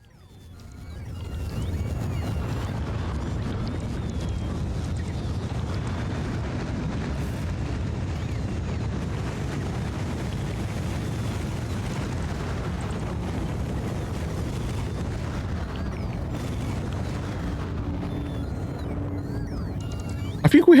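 Rockets launching in the video game Factorio, a deep, steady roaring rumble that swells in within the first two seconds and holds loud and unbroken for about twenty seconds.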